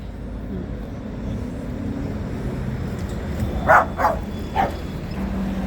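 A dog outdoors gives three quick barks in a row, mid-distance, over a steady background of wind and road noise.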